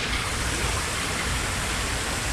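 An aerator pumps air into the water of a spring-fed fish farm in Shoufeng, Hualien, making a steady, dense rushing hiss like heavy rain, constant and fairly faint.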